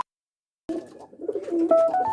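Pigeons cooing close by as they gather to be fed, soft low throaty calls starting after a brief silence and building into overlapping coos with a few higher tones.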